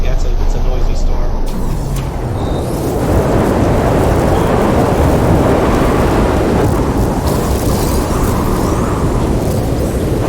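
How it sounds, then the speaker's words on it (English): Thunderstorm on a planet in the No Man's Sky video game, with a dense roar of rain and deep rumbling thunder, loud and continuous after a brief quieter opening. "Yeah, it's a noisy storm."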